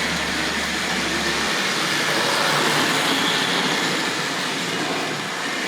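Tri-ang RS.3 Pullman model train locomotive running on track, a loud, continuous rushing rumble very close, as if passing right at the listener, without speech.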